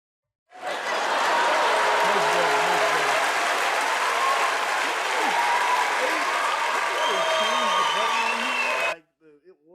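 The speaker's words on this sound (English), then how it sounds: "round of applause for Jeezy and Jeezy Mae" A soundboard button fires a canned applause effect, a dense, loud burst of clapping and cheering that runs steadily for about eight seconds, then cuts off sharply.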